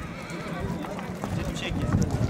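A tall black horse at a livestock market in Ozgon whinnies amid crowd noise and hoof clatter, with someone talking close by over the bustle.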